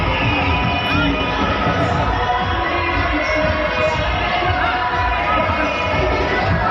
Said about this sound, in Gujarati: જોરદાર તાળીના ગણગણાટ સાથે આપણે દીપ પ્રાગટ્ય વિધિને વધાવીએ